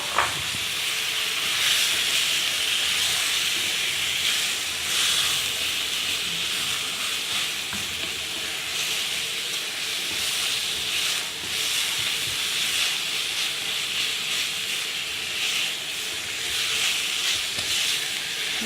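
Chicken mince sizzling hard in a pan over a high flame, a steady dense hiss with crackle lasting throughout, close and fairly loud with no talking.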